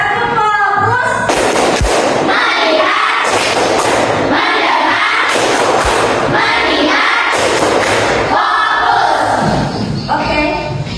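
A primary school class claps together in a rhythmic clap pattern, sharp loud bursts of many hands grouped in quick sets separated by short pauses, with voices between the bursts.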